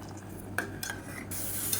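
A spoon stirs boiling barley porridge in a pot on a stove, with a few light scrapes and clinks against the metal over a steady bubbling hiss, close up and with nobody speaking.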